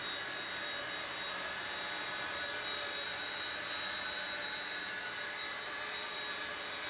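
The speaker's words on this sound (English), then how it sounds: "utilizing the fore and aft function to move the helicopter around" Tiny T-REX 100X A5 RC helicopter hovering and moving fore and aft nearby, a steady high-pitched whirring whine of small rotors and motor, continuous and even throughout with no talking.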